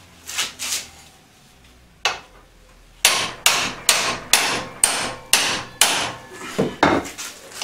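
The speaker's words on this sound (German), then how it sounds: "Ich nehme einen größeren Hammer. Dieser Hammer hier hat ein bisschen mehr Power." A bigger, heavier hammer strikes repeatedly on a tight fitting of a 1999 T-Rex 50 model helicopter: two blows, a pause, a single hit, then a steady run of about ten loud, close, sharp impacts.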